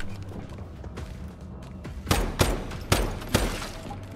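Four sharp, evenly spaced shots ring out from an enemy in Once Human, a post-apocalyptic video game, over a low background of game ambience, with no talk.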